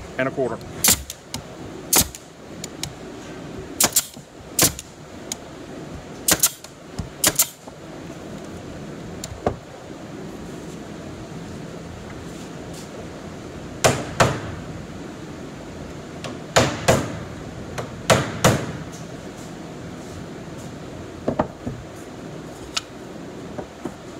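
A brad nail gun fires nails into a thin door frame, each shot a sharp, close snap, arriving singly or in quick pairs with pauses between them over a low steady room hum.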